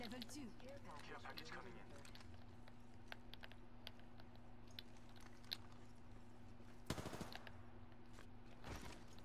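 Gunfire in the battle-royale shooter Apex Legends, including shotgun and sniper weapons: scattered sharp shots crackle through the clip, with a louder burst near the end, under a player's talk.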